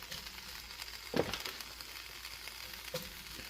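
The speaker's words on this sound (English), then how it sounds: "why are you frying it? Well, you got to fry it." Low, steady sizzling of braised pulled pork frying in olive oil, with a couple of brief louder crackles or stirring sounds; no talking.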